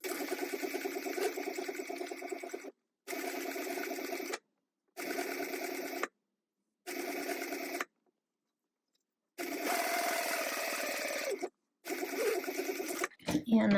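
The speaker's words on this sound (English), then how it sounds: "So you're going to stitch down one side at 1/8 of an inch seam allowance." A sewing machine stitches a narrow 1/8-inch seam along the long edge of a wristlet, running in several separate bursts broken by short pauses, close and clear, with a person talking between runs.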